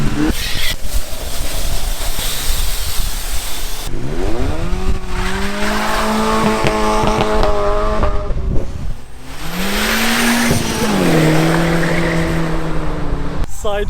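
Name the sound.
Toyota Yaris drifting sideways, tires squealing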